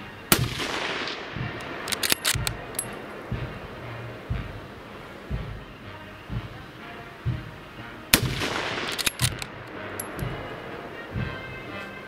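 Sharp, loud reports from a No 4 Mk I* bolt-action rifle fired from a trench, a couple of rounds with very slight hang fire, spaced widely apart against quiet outdoor background with faint scattered clicks and knocks.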